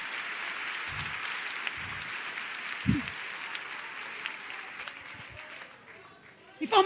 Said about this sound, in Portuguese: Se é para ele, aplaude mais forte.